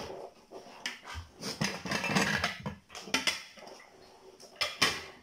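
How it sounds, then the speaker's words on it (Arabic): Clanking and knocking of a cooking pot or cocotte being handled in a kitchen while preparing traditional Moroccan chercham, with several sharp, close metallic hits and scrapes and no talk. "الآن غادي نجيبو طنجرة"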